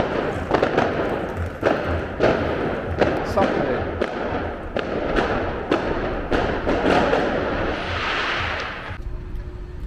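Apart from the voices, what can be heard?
fireworks in Palermo, Sicily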